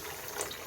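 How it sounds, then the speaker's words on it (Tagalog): Water trickles and gurgles back into a water cooler during cleaning, a brief steady close-up splashing flow. "So, naririnig yung tubig. Pumapasok na siya."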